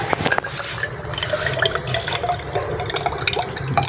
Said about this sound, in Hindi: इसके अंदर भी पानी डाल के यूँ हिलाना है, हिला के ये देखें इसमें से कचरा निकलेगा।